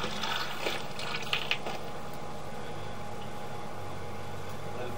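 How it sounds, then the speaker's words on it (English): Water runs steadily through an underground sewer or drain pipe line, making a continuous rushing, gurgling wash with a few faint clanks near the start. "I just want to send some water down the line."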